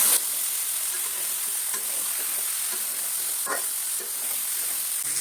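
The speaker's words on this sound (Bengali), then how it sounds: "তেলের মধ্যে ভেজে নিচ্ছি।" Continuous bright sizzling of young green jackfruit pieces frying in hot oil, with a few soft scrapes and taps of a utensil; close and steady, no talking.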